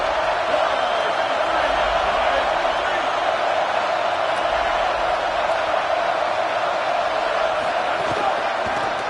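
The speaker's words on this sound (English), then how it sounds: "This crowd ready to make its presence known." Football stadium crowd roaring, a broad continuous wall of cheering and murmur held steady throughout, with a commentator's voice over it.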